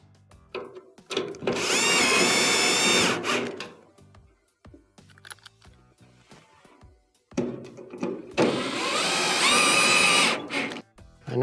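Power driver running two screws into a Whirlpool dryer panel: two close, loud whirring bursts of a few seconds each, separated by quiet handling clicks.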